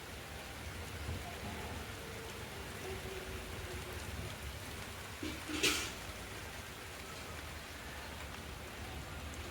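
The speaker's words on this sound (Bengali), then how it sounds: "বাইরে বৃষ্টি পড়ছে" Steady rain falls outdoors, a soft continuous wash of drops heard from indoors at a moderate level, with a brief sharper splash or knock midway and no talking.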